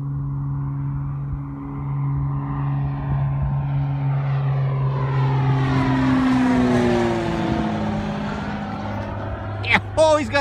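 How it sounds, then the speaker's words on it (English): An old propeller airplane flies past, a loud droning engine whose pitch slides and sweeps as it goes by, with people talking over it and a short clatter near the end. "Oh, he's got his old plane."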